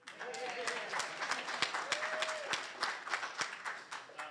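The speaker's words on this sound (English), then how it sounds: "Clap it up for Akil." Audience applause at a community roundtable meeting, a steady burst of many hands clapping at moderate distance with a few brief voices mixed in, sustained for several seconds.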